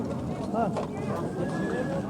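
A horse whinnies nearby amid a busy outdoor mix of voices talking and low background rumble.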